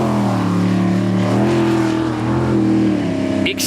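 A Kiwi Battler racing jet sprint boat powered by a sprint car engine blares loudly and close, its engine note wavering and surging continuously throughout the short burst.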